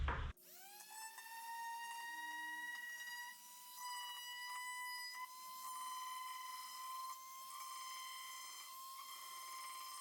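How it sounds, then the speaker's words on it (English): An orbital sander with 80-grit paper spins up and runs against wood, making a steady, high, motor-driven whine with layered overtones. It is close, keeps a constant level with small wavers, and no one speaks. "first thing I'm going to do is sand everything with this orbital sander, starting with 80 grit"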